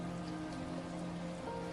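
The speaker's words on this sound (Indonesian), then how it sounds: "Hujan deras mengguyur Jatinegara malam itu." Heavy rain pours steadily over Jatinegara at night, a dense, continuous hiss with no pauses, fairly close and alone without voices.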